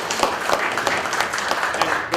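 Applause at a county legislative meeting, a short burst of many hands clapping in a room, dense and moderately loud, with a murmur of voices beneath.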